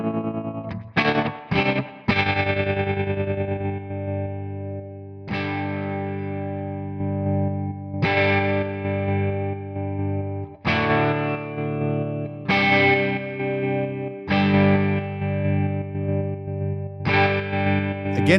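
Electric guitar through a Tonex 1.8 tremolo effect set to a square-wave shape, sustained chords chopped into hard on-off pulses, played loud and alone with a choppy, stuttering rhythm between strums.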